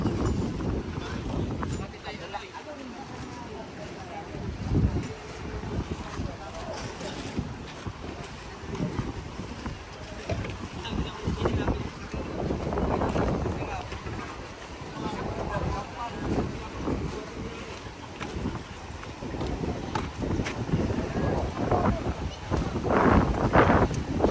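Gusty wind buffets the microphone in uneven rumbling surges while fishing at Dinahican, with water lapping and a few voices faintly in the background.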